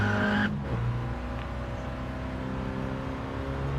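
A 1965 MINI Cooper S is driven flat out, its small engine a steady, buzzing drone with a brief tire squeal at the start, heard from inside or close by at moderate level.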